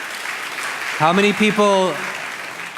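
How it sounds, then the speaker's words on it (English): An audience's applause runs as a steady background wash while a voice speaks briefly over it in the middle of the clip. "Let's give a round of applause."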